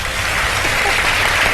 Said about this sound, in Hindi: तो शेफ फराह के लिए बजा दें तालियां